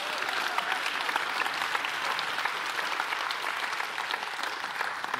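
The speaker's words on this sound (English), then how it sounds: "Now you can clap" Congregation clapping together in a church service, a steady dense wash of many hands that holds evenly for several seconds with no talk over it.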